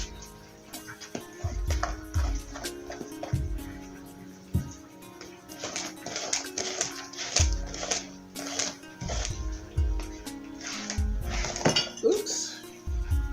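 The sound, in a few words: mixing thick walnut brownie batter in a bowl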